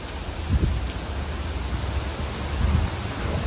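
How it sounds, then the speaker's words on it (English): Steady wind-blown rain hisses across a broad wash of noise in New York, with low rumbling gusts of wind swelling now and then, no voices. "When you can see the wind carrying the damn rain,"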